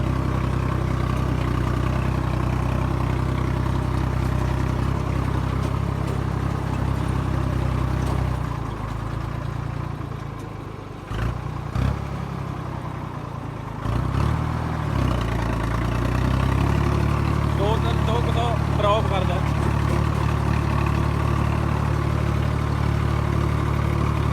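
A Ford 3610 tractor's diesel engine idles close by in a steady, low rumbling drone that dips briefly midway and then returns to an even idle.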